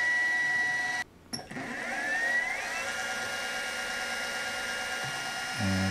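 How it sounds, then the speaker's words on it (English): Center drilling a small part on a metal lathe or mill while building a Stirling engine: a steady whirring machine tone with a rising pitch sweep, briefly cut off by a pause, then running on alone at close range. "And center drilling."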